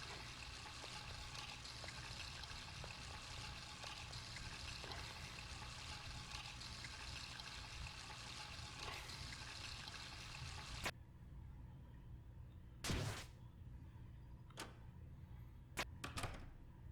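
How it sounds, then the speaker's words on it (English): Steady running water in Deltarune, a constant hiss pouring for about eleven seconds before cutting off, followed by a few brief clicks and knocks in quiet. "And now the water sound comes back."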